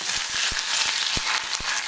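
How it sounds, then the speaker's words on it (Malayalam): Curry leaves dropped into hot coconut oil with browned shallots, a steady bright sizzle with a few soft taps of a utensil against the pan, fairly close and without talk. "നമുക്ക് ഇതിലോട്ട് കുറച്ച് കറിവേപ്പില ഇട്ട് കൊടുക്കാം."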